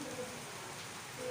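Steady rain falls outdoors beside a dhaba-style cooking setup, a soft, even hiss that holds constant at a low, distant level with no other sound standing out.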